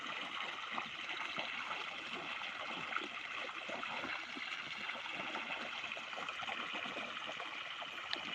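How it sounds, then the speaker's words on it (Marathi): Irrigation water flows across a farm field in a steady, faint broadband rush and trickle that continues evenly without a break or any talk. "असं पाणी देणं चालू आहे"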